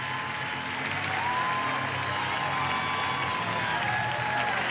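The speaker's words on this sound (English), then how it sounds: "you can see the Vanderbilt crowd giving Carson Fulmer a standing ovation" A Vanderbilt baseball crowd applauds and cheers pitcher Carson Fulmer in a standing ovation at the College World Series finals, with dense, loud, sustained clapping filling the whole stretch without letup.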